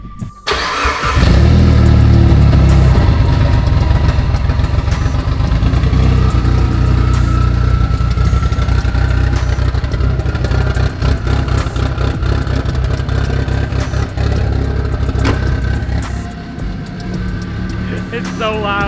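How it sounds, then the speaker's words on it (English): Mitsubishi Evo with an open dump exhaust roars loudly as its engine is revved hard and held at high revs, a sustained, harsh, close-up blare running almost without pause and swelling again near the end. "I've always wondered what an Evo would sound like with just an open dump."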